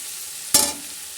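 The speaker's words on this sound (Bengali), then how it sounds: "তো এভাবে করে ভালো করে সবগুলোকে ভেজে নিতে হবে।" Ingredients frying in a pan under a constant low sizzle, broken by one sharp scrape or clink of a stirring utensil midway, close and brief, with no speech.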